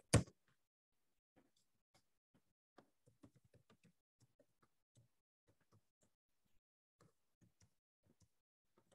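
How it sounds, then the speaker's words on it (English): Light, sparse keystrokes tap on a computer keyboard in a quiet room, after a single sharp knock at the start; the clicks are faint and irregular, heard alone without talk. "I'm typing it out in here,"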